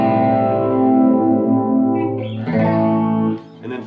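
Electric guitar run through a phaser pedal, sustained chords swirling with a sweeping, flanger-like modulation that rises and falls before a few quieter strums, loud and alone.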